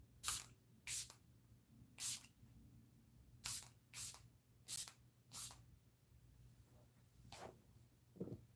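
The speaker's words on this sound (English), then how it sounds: "And I'm gonna just spray one more time." Hair spray hisses onto locs in about nine short bursts, some in quick pairs, close and fairly quiet, with gaps of near silence between them.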